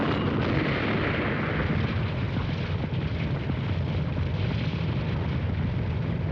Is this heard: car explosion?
yes